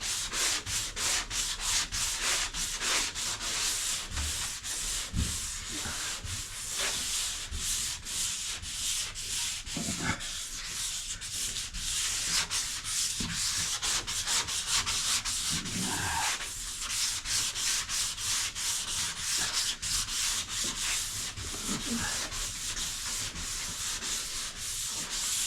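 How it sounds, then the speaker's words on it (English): A long sanding block scrapes back and forth across a car hood during prep for primer, a steady abrasive rasp with rhythmic strokes running continuously and close, with no talking. "then we take the long block and go across it"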